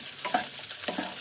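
Fried rice stirred in a hot pan, scraping strokes over a steady sizzle, with a few distinct scrapes close by.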